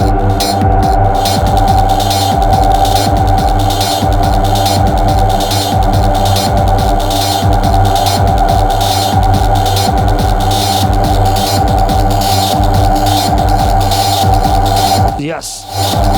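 The electric motors of a Gamechanger Motor Synth MK2 give a loud, sustained droning hum with a rhythmic throbbing pulse that holds steady for about fifteen seconds before breaking off near the end.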